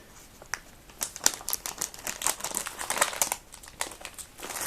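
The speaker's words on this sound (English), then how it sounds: "let me just rip that open instead of cutting it perfectly. It's only a plastic bag" Crinkly plastic rustles and crackles in uneven bursts, close up, as a bag holding RC car rims and tires is pulled and torn open with no talking.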